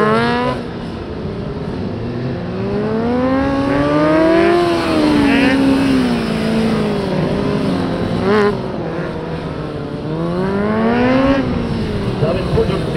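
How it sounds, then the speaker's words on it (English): Honda CBR 600 motorbike on a racing run, its engine rising and falling through gear changes at close range, loud and continuous throughout with a busy, shifting pitch. "David Puder, CBR 600, is finishing his run, last rotation"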